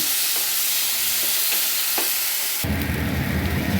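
Ground spices are stirred into mashed yardlong bean paste in a hot pan, with a few scraping strokes over a steady sizzle that swells louder toward the end.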